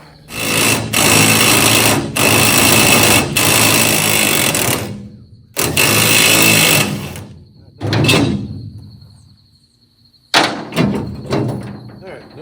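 An impact wrench works on bolts of a 1969 C30 truck being rescued from an oil field, firing in several loud, close bursts of rapid hammering separated by brief pauses.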